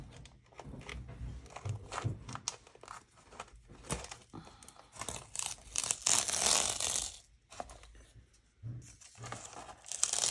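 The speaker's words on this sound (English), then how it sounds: "peel the tape off" Tape peeling slowly off paper around a watercolor snowflake bookmark, a soft continuous crackling and tearing rasp with small crinkles, close and quiet, heard alone.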